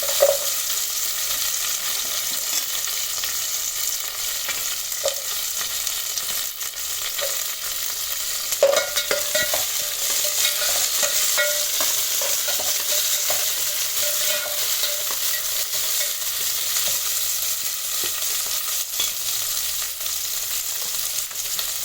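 Carrot stirred and fried in a pan while cooking mutton curry and bhagara rice, a steady close sizzle with scraping utensil strokes and occasional clinks throughout.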